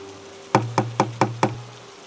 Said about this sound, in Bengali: দরজায় টকটক আওয়াজ।